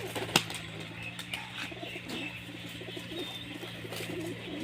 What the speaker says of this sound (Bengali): এটা নর পায়রা, বাড়ির পায়রা।